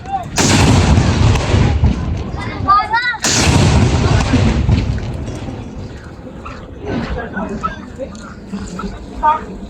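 Philippine Navy 21-gun salute cannon fire at Harbour Square on Manila Bay, with two heavy, close booms about three seconds apart, each trailing a long rumble, and a dog and voices audible afterward.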